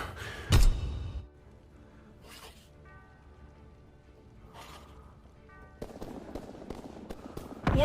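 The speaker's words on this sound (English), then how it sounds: "Mortar shot out" Mortar fire in the Call of Duty WW2 multiplayer game, with a sharp loud blast at the start, then a few faint scattered pops and hisses, and another burst of noisy impacts near the end.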